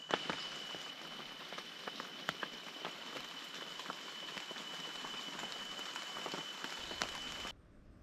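Rain falling on a forest at night, a steady broadband patter with scattered drop hits, easing slightly, with a constant insect-like tone running through; the wash stops abruptly near the end.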